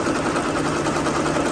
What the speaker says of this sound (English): we'll see how quickly that takes to stitch that out.